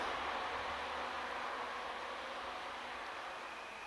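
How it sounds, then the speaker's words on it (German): A train on the Danube Valley railway, coming from Sigmaringen and heading on toward Friedingen, gives off a steady broad rushing roar that slowly fades as it moves away. "der Zug, der kam jetzt von Sigmaringen aus und fährt jetzt hier weiter"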